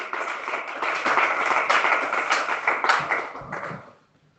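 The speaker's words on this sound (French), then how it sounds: "Applaudissez très fort le roi des rois." A church congregation claps loudly and continuously, the applause swelling in the middle and then dying away quickly in the last half second.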